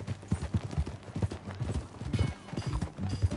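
Rhythmic clip-clop of horse hooves trotting at an even pace in Red Dead Redemption 2, close and fairly clear, with no talking.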